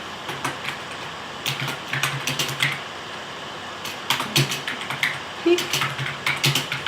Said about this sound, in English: we're going to type our tip.